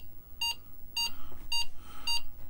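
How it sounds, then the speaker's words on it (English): Four short electronic beeps from an Apple II computer's bell, triggered by Control-G, evenly spaced about half a second apart, bright and tonal over a low background hum, with no voices. "I can do a control G and get a bell."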